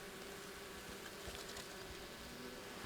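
Honeybees fly around a hive, a faint, steady buzzing hum of many insects with no talking.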